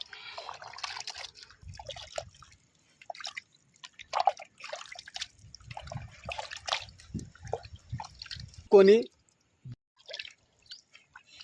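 Raw chicken being washed by hand in filtered water in a village kitchen: irregular splashes, drips and squishy handling sounds, close by, with one sharper slosh near the end.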